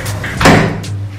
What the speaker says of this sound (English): you use this button to open the stove.